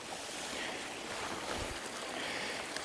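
A moorland stream on Dartmoor during a drought runs in a steady, faint broadband rush that stays even throughout, with no voices.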